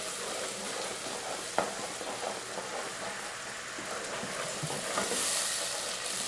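Apple pieces sizzle steadily in hot melted butter for caramelized apples, a dense, even frying hiss close up with one faint knock partway through.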